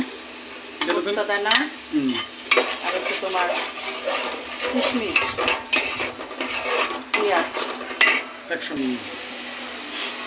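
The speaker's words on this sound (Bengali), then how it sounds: "এখানে কিন্তু এই মশলাটা ভালো করে কষিয়ে নিতে হবে" Ground onion and spice paste for egg korma fries in a pan while being stirred hard, giving bursts of scraping and rasping strokes over a sizzle, with pauses between strokes; a voice talks faintly in the background.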